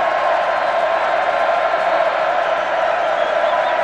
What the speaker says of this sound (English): Every other person decked in maroon cheering on the defense